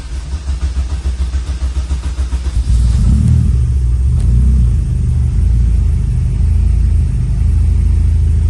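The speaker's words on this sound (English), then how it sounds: "Took a little bit to crank up there, building some fuel pressure, but let's see how we're running." A car engine, just fitted with new fuel injectors, cranks with a rapid rhythmic churn for a few seconds, then catches and settles into a loud, steady running rumble close by.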